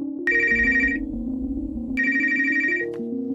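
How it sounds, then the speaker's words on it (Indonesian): A telephone rings twice in a horror film scene, each burst a bright warbling trill lasting under a second, over a quiet, tense musical background. "Tapi tiba-tiba, telepon berdering, memotong suasana mencekam."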